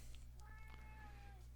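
A house cat gives one drawn-out meow, faint over a steady low electrical hum.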